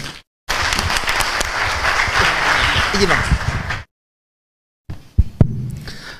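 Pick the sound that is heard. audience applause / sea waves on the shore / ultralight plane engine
audience applause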